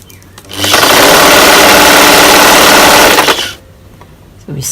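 A sewing machine stitches T-shirt fabric in one loud, steady mechanical whir of about three seconds. It starts and stops abruptly, with quieter room sound before and after.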